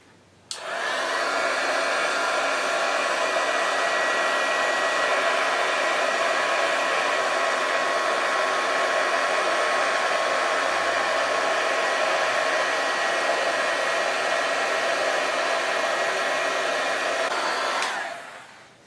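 A heat tool blows hot air steadily onto embossing adhesive for a craft technique, a loud continuous whooshing drone that starts abruptly, holds unchanged for about seventeen seconds, then cuts off.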